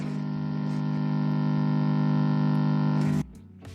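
Loud, steady buzzing hum with distortion comes from a George Thunderbird boutique guitar amplifier being repaired, driven at high volume with the microphone close to the speaker, before it suddenly cuts down near the end.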